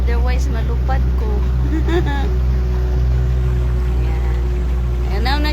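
Loud, steady motorboat engine roar at speed with wind and water rush, as someone talks over it in short bursts.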